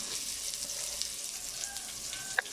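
Chopped big onions fry in a pan with a soft, continuous sizzle, faint and fairly distant, with a small metallic clink near the end.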